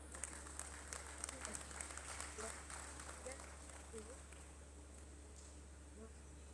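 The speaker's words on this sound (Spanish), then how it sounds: "para que pido fuertes aplausos" Audience applause for a speaker at the opening lecture of an educational festival, a quiet, dense patter of many hands with a steady low hum under it that fades slightly toward the end.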